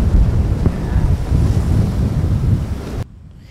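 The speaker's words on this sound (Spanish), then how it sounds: "acá en las piedras son las únicas que pueden retener el fuerte oleaje" Strong sea surf pounds the coastal rocks and dike at Corinto, a loud, continuous roar with heavy wind buffeting the microphone, cutting off abruptly near the end.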